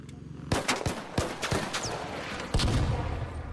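Gunfire in the video game ARC Raiders rings out as several sharp shots spaced through the moment, layered over a busy mid-level game background without clear talk.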